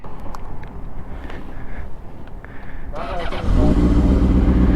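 A Honda CBR 600RR motorcycle engine idles under people talking, then revs hard and loud, close by, for the last second or so.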